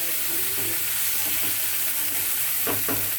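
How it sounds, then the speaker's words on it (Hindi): Chopped tomatoes and green chillies cook in a pan for a vermicelli and fenugreek rice dish, giving a dense steady hiss with a few stirring scrapes toward the end. "और अब मैं इसमें डाल रही हूँ टमाटर और हरी मिर्च, और इसको थोड़ा सा पकाएंगे टमाटर और हरी मिर्च के साथ।"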